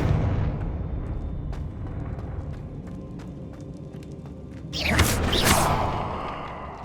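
Confringo spell explosion in the video game Hogwarts Legacy: a sudden loud, broad blast that rolls on for about two seconds after a stretch of rumbling game ambience with scattered clicks.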